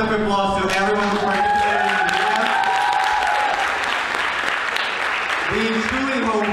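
Applause for participants at a Ukrainian Culture Day performance, a steady crowd of clapping hands mixed with a voice and some tonal sounds running through it.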